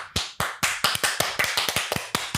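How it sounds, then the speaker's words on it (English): Clapping sound effect of about a dozen sharp, dry claps in an uneven quick rhythm, close and crisp, each snapping on and decaying fast, heard alone without talk. "no clapping, Enzo, no clapping, no. Annoying sound effects"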